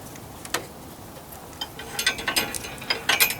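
A turnbuckle on a gate is turned to tighten it, giving a run of quick, close ratcheting clicks that come in uneven bursts over a quiet hum.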